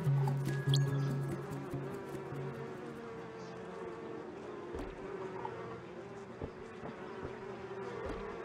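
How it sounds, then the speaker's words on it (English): Swarming bees hunting the player in the Donut County video game, a steady buzzing drone with scattered clicks and small game effects layered on top. "Sometimes you get hunted by bees."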